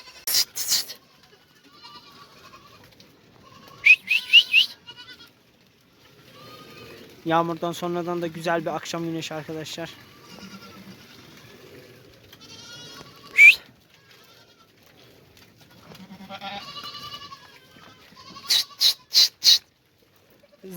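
Several goats bleat in short bursts, including a long wavering bleat midway, with a person speaking calmly between the calls outdoors at a highland pasture.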